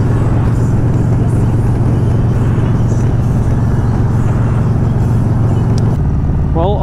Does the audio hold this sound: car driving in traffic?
yes